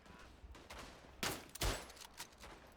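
A rifle shot in the World War I shooter Tannenberg, a sharp close crack followed by a second heavy report, set among scattered faint distant gunfire.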